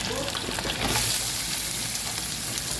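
Duck pieces hit a pan of oil with onion and garlic browning in it, producing a steady, dense sizzle and frying crackle that carries close and loud for the whole stretch, with no talking.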